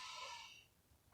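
Slow, audible breath drawn and released in a quiet indoor space during a stretching and body-awareness session, soft and close, fading to near silence before a brief sharper breath sound at the end.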